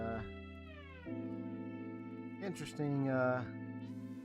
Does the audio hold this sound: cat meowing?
yes